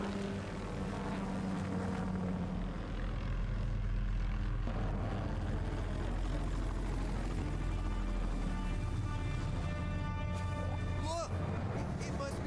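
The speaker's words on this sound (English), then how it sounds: "It's a helicopter. It's the sound of a helicopter." Helicopter approaching in a horror video game, a steady loud rotor and engine drone filling the scene throughout, with game dialogue spoken over it.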